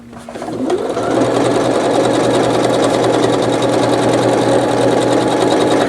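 A sewing machine stitching with Gutermann cotton thread, tension set to auto, starting up and then running at a loud, steady, rapid mechanical chatter close by without pause.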